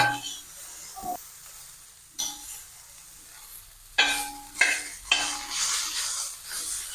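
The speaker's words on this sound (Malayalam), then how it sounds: "ഏകദേശം ഒരു മുന്നൂറ് ഗ്രാമോളം വരുന്ന ഒരു കാബേജാണ് എടുത്തിരിക്കുന്നത് നന്നായി മിക്സ് ചെയ്ത് കൊടുക്കാം" Cabbage stir-frying with carrots and beans for thoran, bursts of loud close sizzling and spatula stirring that come and go, with quieter gaps between them.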